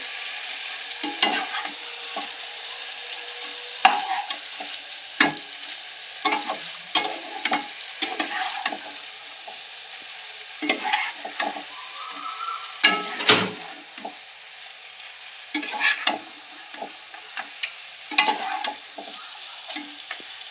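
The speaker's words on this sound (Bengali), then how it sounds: "চিংড়িটা খুব ভালো করে কষাতে হবে মশলার সাথে।" Shrimp being stir-fried with spices in a pan: repeated spatula scrapes and stirring knocks at an irregular rhythm over a soft continuous sizzle, close and clear with no talking.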